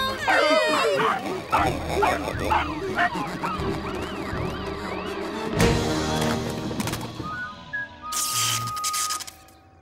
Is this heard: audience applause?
no